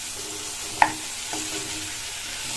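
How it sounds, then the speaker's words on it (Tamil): Chayote pieces sautéing in masala over a high flame give a faint, steady sizzle, broken by one sharp utensil clink near the start and a softer scrape just after. "அதை சேர்த்துட்டு ஸ்டவ்வோட தீயை கொஞ்சம் கூட்டிட்டு இந்த காயை இந்த மசாலாலேயே ஒரு 2 நிமிஷத்துக்கு வதக்கி விட்டுக்கங்க"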